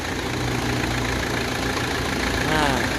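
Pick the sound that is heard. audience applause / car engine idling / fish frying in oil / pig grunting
car engine idling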